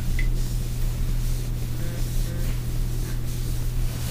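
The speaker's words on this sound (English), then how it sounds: "So we will spray" Cleaner sprays onto a toilet in a few hissing bursts, close and fairly soft, with a steady low hum behind and no talking.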